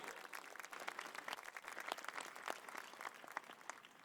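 Applause at a press conference unveiling the pool for the U.S. Olympic Swim Trials at Lucas Oil Stadium, a crowd clapping steadily and continuously throughout, moderately loud with no talk over it.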